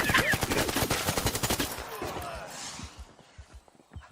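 Rapid automatic gunfire rattles out in the video game ARC Raiders, a dense burst of shots followed by a few scattered, fainter pops.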